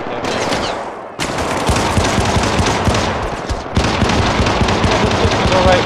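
Rapid gunfire from a weapon in the co-op shooter video game Syndicate, dense continuous bursts of automatic fire with a brief pause near the start and another later, loud and close, with faint speech in the mix.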